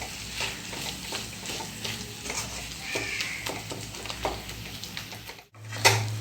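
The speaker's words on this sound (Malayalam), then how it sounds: "ഇതെല്ലാം കൂടി നന്നായി മിക്സ് ചെയ്ത് കൊടുക്കാം" Mashed banana being mixed with powdered cardamom sugar for a banana and aval snack, heard as repeated soft scraping and squelching strokes of a spoon in a bowl, with a brief pause and a clink near the end.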